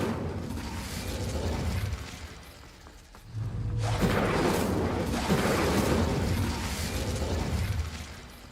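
Incendio fire spell cast in Hogwarts Legacy, a dense whooshing, crackling burst that swells after a brief lull and roars steadily for several seconds before easing off.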